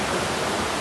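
Curug Lawe waterfall at the foot of Mount Ungaran in Java, a loud, steady broadband rush of falling water, continuous and close with no other sounds.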